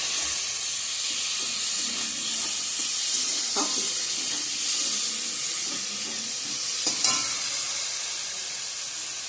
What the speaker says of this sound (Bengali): তেল ছেড়ে দিয়ে দিয়েছে, এখন কলার মোচাগুলো দিয়ে দেবো।